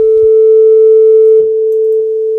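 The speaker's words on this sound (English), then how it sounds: "it synthesizes like a sine wave" A steady pure sine tone from a software synthesizer holds one unwavering pitch throughout, loud and continuous, with a couple of faint clicks in the background.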